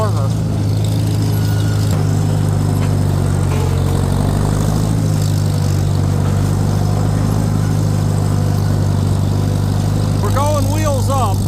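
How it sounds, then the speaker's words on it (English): A pickup truck drives around a corner at a farm gathering of Farmall tractors, giving a steady low engine hum under ongoing voices, and near the end a few rising whines cut in briefly. "Pick up coming around the corner."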